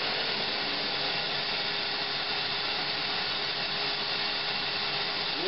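A shop vacuum runs continuously to supply suction for a shopmade vacuum chuck, giving a loud, steady, unbroken roar from start to finish.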